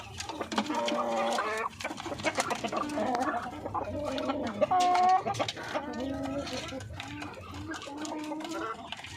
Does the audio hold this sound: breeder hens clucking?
yes